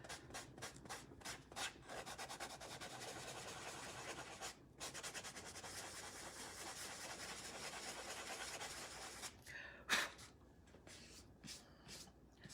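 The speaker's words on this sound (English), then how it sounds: "I'm just gonna sand some of the little boo-boos where where it rolled" A transfer on a craft piece is sanded by hand in quick rhythmic rubbing strokes, close and soft, settling into a steady scratchy rasp, then a few final strokes after a brief handling knock.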